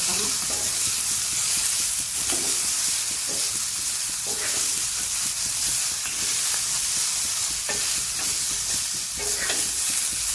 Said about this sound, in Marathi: सुरुवातीला मोठ्या गॅसवर आपण भाजणार आहोत.